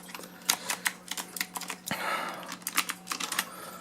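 Fast, uneven typing on a Qwerkywriter R, a typewriter-inspired mechanical keyboard, with crisp clacking keystrokes close up, one heavier thunk near the middle, and no voices.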